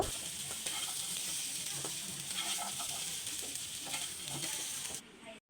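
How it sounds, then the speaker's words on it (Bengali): Quiet, continuous sizzling of jackfruit frying in hot oil in a wok, with occasional stirring scrapes, fading out abruptly at the end. "আমার এখানে এঁচড়টা কিন্তু ভাজা হয়ে গেছে"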